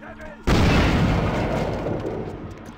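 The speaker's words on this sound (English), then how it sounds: "Oh, that's a hand grenade, I think!" A hand grenade explodes in Vampire The Masquerade: Bloodlines: one sudden, loud, close boom that rumbles and slowly fades.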